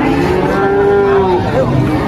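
Limousin and Simmental cattle at a livestock market, a loud nearby cow lowing in a long drawn-out moo over a steady busy background murmur.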